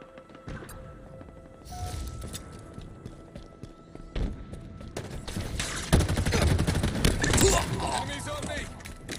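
Scattered gunfire and explosions in Halo Infinite, sporadic shots building into a heavier exchange of fire, with in-game voice callouts over the combat.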